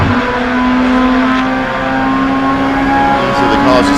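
Production race cars competing in a Malaysia Championship Series race, engines droning steadily and loudly at close range with a sustained tonal whine, a brief rise in pitch near the end.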